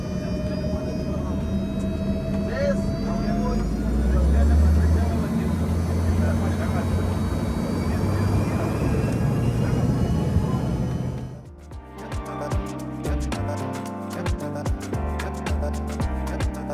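Airliner engines roar steadily and loudly through a takeoff run, a broad sustained drone that cuts off sharply, giving way to intermittent rattling cabin noise.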